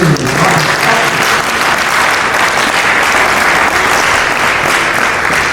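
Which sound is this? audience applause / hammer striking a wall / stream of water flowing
audience applause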